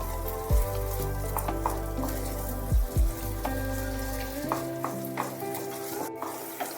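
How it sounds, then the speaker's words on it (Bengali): Whole moong dal with husk frying in white oil in a pan while being stirred, giving a soft sizzle with scattered spoon clicks and scrapes under steady background music. "একটু ভালোভাবে নাড়াতে হবে।"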